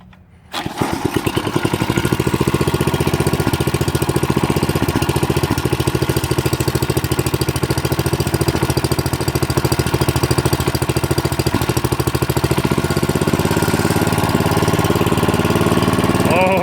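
A small go-kart engine with a torque converter, running a little finicky, catches after a brief quiet moment and settles into a loud, steady, close-up chugging idle that holds for the rest of the run.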